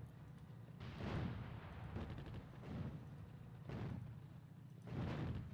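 Artillery fire from the WWII desert strategy game Attack At Dawn: North Africa, set at Tobruk, rumbles as a series of muffled, distant booms that swell and fade every second or so with no gaps between them.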